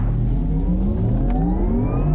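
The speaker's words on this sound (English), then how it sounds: "it makes the noises that cars make in future movies" Electric car's synthetic driving sound, heard first from outside then inside the cabin: a steady futuristic whine of several tones gliding slowly upward together, continuous and fairly loud, with no talk.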